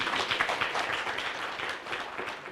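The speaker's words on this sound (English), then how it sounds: "So have a round of applause." A round of applause at a business summit on sustainability, a dense patter of many hands clapping steadily from a seated audience.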